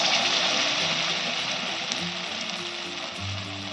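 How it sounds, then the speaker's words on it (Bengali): Battered pointed gourd pieces frying in oil over a low gas flame, a steady close sizzle with soft crackles throughout and no talking. "আমি বেশি দেব না দুটো দুটো ভাজবো"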